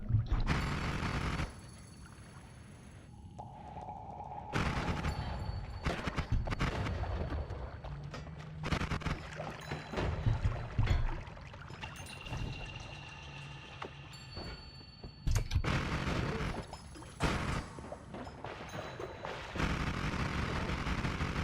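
A Destroy spell is cast every frame in Noita, producing a chaotic, stuttering barrage of bursts and blasts that cut in and out abruptly, with tonal whines and stretches of quieter rumble between the loud clusters.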